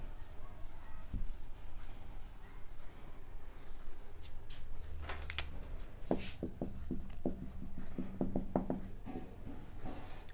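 Pen or chalk scratching and rubbing as a math derivation is written out by hand, a steady close scraping texture with a few sharper taps, over continuous background noise.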